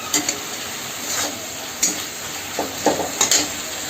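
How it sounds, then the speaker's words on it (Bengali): Onion, ginger, garlic and tomato paste fries in a pan while a spatula stirs it, giving a steady close sizzle broken by sharp intermittent scrapes and clicks against the pan. "এবার এটা একটু ভালো করে কিন্তু ভেজে নেবো"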